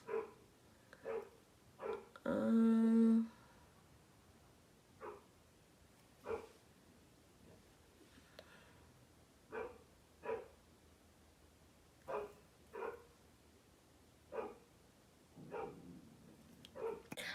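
Dogs bark in short, separated bursts at a distance, repeating every second or two, with one louder, longer yelping outburst early on.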